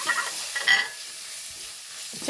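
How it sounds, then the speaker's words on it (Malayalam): Tomato, green chili and ginger sautéing in a pan for a Kerala prawn curry in coconut milk, with a steady sizzle and a few brief scraping stirs early on before the frying settles to a constant hiss. "ഇതിലേക്ക് തക്കാളി ഇട്ട് കൊടുക്കാം പച്ചമുളകും ഇഞ്ചി ഇട്ട് കൊടുക്കാം കേട്ടോ ഇതെല്ലാം കൂടെ ഒന്ന് വഴറ്റിയെടുക്കാം"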